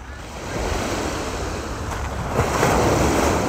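Waves breaking on the beach at Felixstowe, Suffolk, a steady loud wash of surf mixed with wind buffeting the microphone, swelling slightly toward the end, with no one speaking.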